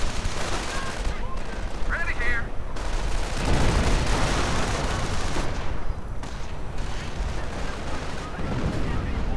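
Dense, continuous artillery and gunfire in a WW2 strategy video game, with rattling machine-gun bursts and heavy booms layered throughout, loud and close.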